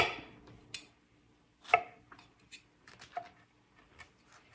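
A knife slicing onion on a cutting board for soup, producing a handful of soft, irregular cutting taps and clicks close by, with quiet gaps between them and no talk.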